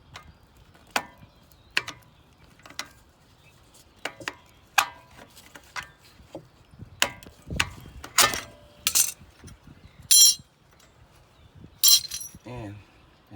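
Close metallic clicks and taps ring out while a brake pad retaining clip is pushed and released on a Lexus LS 430's front brakes, with scattered sharp clinks and small scrapes in an irregular rhythm.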